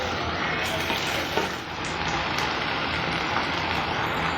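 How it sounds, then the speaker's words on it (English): Loud, continuous sizzling of mutton frying in a hot pan, a dense crackling hiss that stays steady throughout with occasional louder pops. "the meat has now been frying for some time"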